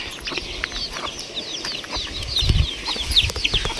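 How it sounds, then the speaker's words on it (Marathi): Small chicks and a hen at a village farmhouse give repeated high cheeps and soft clucks, close by, over a rustling outdoor background with a brief low thump midway. "हे बघा कोंबड्याचे छोटे छोटे पिल्लं"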